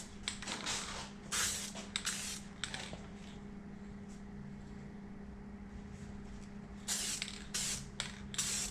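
A rattle can sprays metallic paint onto a 1969 Pontiac Firebird wheel in several short bursts over a steady low background hum. The bursts come in a quick cluster early on and again near the end.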